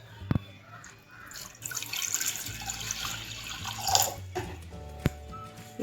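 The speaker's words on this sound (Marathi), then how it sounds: "कुकरमध्ये प्रथम पाणी टाकूया." Water is poured from above into a pressure cooker, a steady splashing wash with small clanks of metal around it and faint background noise.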